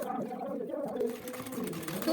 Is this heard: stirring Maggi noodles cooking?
no